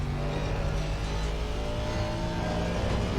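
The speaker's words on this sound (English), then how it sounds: "You can hear the car just all over the place." Aston race car in a racing video game at Oulton Park, its engine droning loud and steady throughout as the car jolts over bumps, with no talk.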